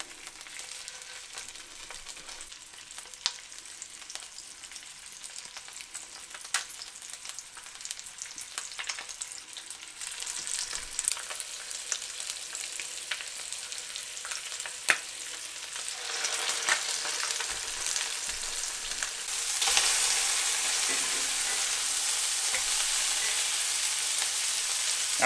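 Salmon collars seasoned with salt and pepper fry in olive oil, a soft, steady crackling sizzle that swells louder toward the end with no talking.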